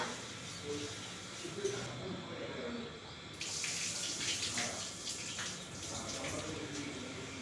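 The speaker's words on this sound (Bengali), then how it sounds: "আমি নিয়েছি ফ্রাইড রাইস চাল আমি ভালো করে ধুয়ে নেব" Rice grains for fried rice being rinsed in water, a continuous close wet swishing and trickling with splashy bursts, steady throughout with no speech.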